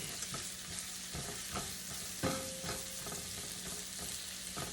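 Onions sizzling as they soften in a pan for black bean tostadas, a constant close frying hiss broken by a few stirring clatters and one brief louder clink midway.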